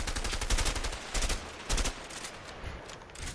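Rapid gunshots ring out in the video game A Way Out, a few sharp cracks and short bursts over a few seconds, moderately loud with some distant clatter behind.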